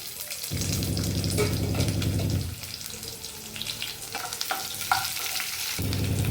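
Curry leaves and small shallots hit hot coconut oil already crackling with mustard seeds and urad dal for an ivy gourd stir-fry. A loud, steady close sizzle carries on with bursts of stirring and spatter, and no voices.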